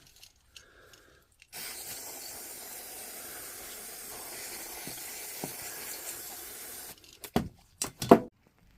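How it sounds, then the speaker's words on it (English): Contact cleaner sprayed onto a DeWalt angle grinder part in one long, steady hiss lasting about five seconds, followed by a few short sharp bursts and clicks near the end. "So we'll give this a little clean up on its own. The same thing, contact cleaner."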